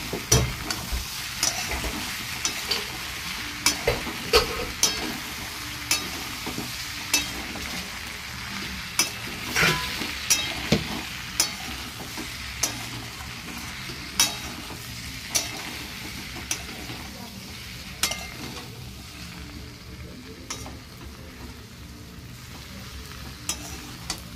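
Cumin powder and coriander powder sautéing in a pan on a gas stove: a soft steady sizzle with regular sharp ticks and scrapes as a spoon stirs the spices, fairly quiet and without talk.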